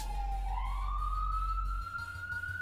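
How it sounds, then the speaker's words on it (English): An emergency vehicle siren, from fire trucks or ambulances passing a business just off Main Street, wails steadily with a rising tone, heard at a moderate distance over a low hum. "fire trucks and ambulances, any emergency response vehicle that goes from one spot in town to another passes our business"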